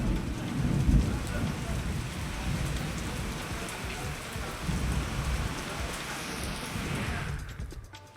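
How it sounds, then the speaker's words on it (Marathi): Heavy unseasonal rain pours down in Buldhana town, a dense continuous roar of drops drumming on surfaces with low rumbling underneath, steady throughout before tapering off in the final second. "बुलढाणा शहरामध्ये सुद्धा अवकाळी पावसाने हजेरी लावली"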